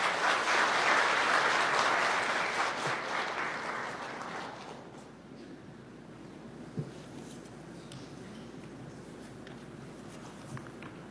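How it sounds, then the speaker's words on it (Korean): Loud crowd applause at a Labor Day ceremony swells for about four seconds, then dies away into quiet room noise with scattered faint knocks and footsteps. "여러분 뜨거운 박수 부탁드립니다."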